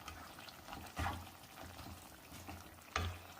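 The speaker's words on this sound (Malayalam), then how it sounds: "ഇപ്പോൾ ഈ കപ്പളങ്ങ നന്നായിട്ട് തിളച്ചിട്ടുണ്ട്." Raw papaya simmering in a pot for a Kerala papaya masala curry, a soft, faint bubbling and slosh with two light knocks of a spoon against the pot, no voices.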